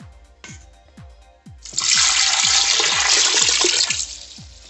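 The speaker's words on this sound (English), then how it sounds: "Then I'll add some water to it." Water pours into a cooking pot of Nigerian bitter-leaf soup with banga, a loud continuous splashing rush that starts after a couple of seconds, set against a faint repeating low thumping and a brief earlier splash.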